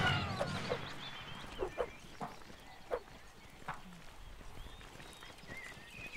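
Horse hooves in the Civil War line-battle video game North and South, several scattered clip-clop thuds at irregular intervals amid distant game noise and faint voices.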